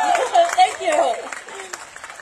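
An audience claps at a ribbon-cutting ceremony for an economic mobility hub. Scattered applause runs under a person speaking close by.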